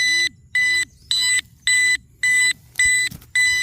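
An electronic alarm blares in loud, regular pulses, about seven bursts of harsh buzzing tone separated by short gaps.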